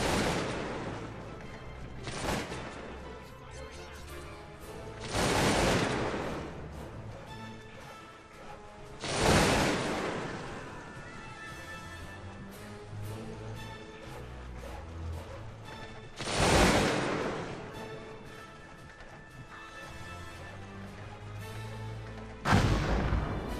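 Booming artillery salvos and crackling musket volleys in a Napoleonic Wars strategy game, with several heavy blasts spaced a few seconds apart over a continuous rumble of battle.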